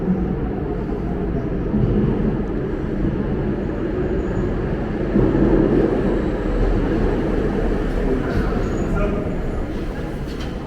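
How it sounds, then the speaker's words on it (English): An old metro train runs through a tunnel on Budapest's historic underground line, giving a loud, continuous rumble and rattle with wheel noise that swells slightly midway, heard from inside the carriage. "I really do like these old school metro systems. It's like taking a step back in time."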